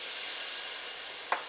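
White onions dropped into a pan of hot oil sauté with a steady, even sizzle and hiss, alone throughout, with one faint clink near the end.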